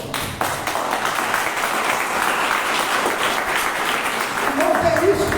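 A church congregation at a worship service breaks into applause, a broad, continuous roar of clapping that swells near the end as a voice begins to rise over it.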